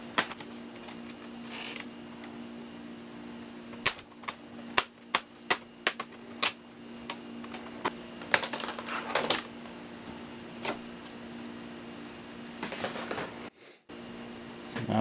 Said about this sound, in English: go around the bezel with our flathead, carefully popping it loose